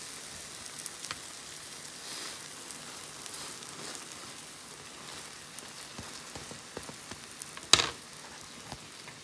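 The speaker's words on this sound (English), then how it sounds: "let it cook on the other side without disturbing, so it sets the cinnamon swirl" A cinnamon roll pancake cooks undisturbed in a pan, a faint, soft, even sizzle resembling light rain, with a few small clicks and one brief louder knock.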